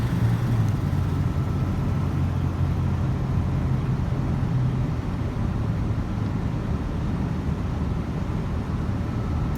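A 1987 Ford F250 truck on a country road in Justin, Texas, accelerates with a steady low engine drone heard from inside the cab, continuous and fairly loud.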